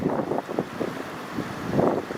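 River rapids rush in a snowy March woodland, a steady close roar of churning water with gusty wind noise layered over it.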